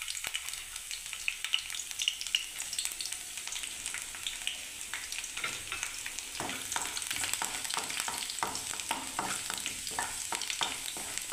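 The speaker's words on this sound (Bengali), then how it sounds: "ওই তেলের মধ্যে রসুনটা দিয়ে দিলাম" Chopped garlic sizzles and crackles in hot oil alongside a cardamom pod, a soft steady frying hiss with spatula stirring scrapes growing busier toward the end.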